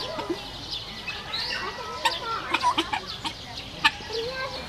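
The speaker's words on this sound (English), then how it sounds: "An African guinea fowl." Many African guinea fowl in a bird park in Abensberg give a chorus of harsh, scratchy calls, several sharp bursts at mid distance over a busy background of other birds.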